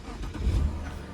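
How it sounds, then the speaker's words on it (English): A BMW car engine cranks and catches, starting with a brief low rumbling surge that settles into a quieter running hum, heard close by. "The car starts up perfectly,"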